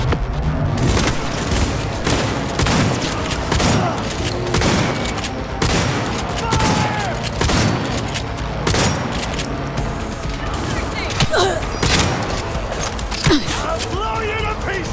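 Gunfire from Cyberpunk 2077 combat keeps going: dense bursts of automatic shots and booms with mechanical clanks, loud and steady throughout.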